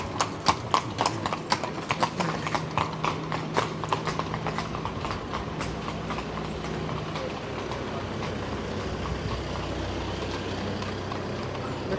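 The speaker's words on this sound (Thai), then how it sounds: "นี่ก็จะมีรถม้าให้บริการ" Horse-drawn carriage hooves clip-clop steadily on pavement, a brisk rhythmic trot that fades into a broad street hum of passing traffic.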